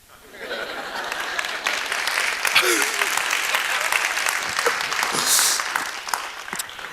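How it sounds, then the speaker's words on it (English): An audience at a storytelling event breaks into sustained applause, with a few chuckles and murmurs mixed into the clapping, loud and steady throughout. "And it says pause for applause."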